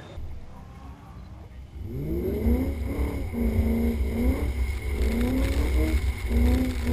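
Car engine held at wide open throttle on a skid pan, a sustained loud roar with rising and falling pitch sweeps and wavering revs, close and continuous.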